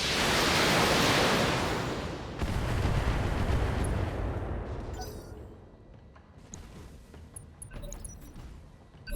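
Missiles launched by a mech in BattleTech, a loud roaring rush of noise that swells near the start and then fades away, followed by quieter scattered crackles.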